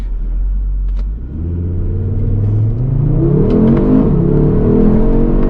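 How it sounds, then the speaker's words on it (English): A 2022 Audi RS3 with about 400 horsepower launches from a standstill toward 60 mph, its engine rumble climbing steadily in pitch as it pulls hard through the revs, loud and close from inside the cabin. "we can do a 0 to 60 if I just stop it here real quick"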